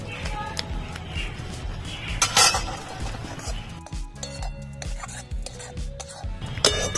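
Cooked apple for a sweet-and-sour chutney is mashed in a pot, with repeated clinks and scrapes of a utensil against the metal, uneven and close, and a voice speaking in places over the kitchen noise.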